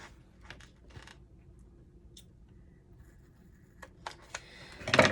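Scissors snip through a chip bag in a few short, crisp crunchy cuts spread over quiet, faint background, ending with a louder rustle of the bag's material.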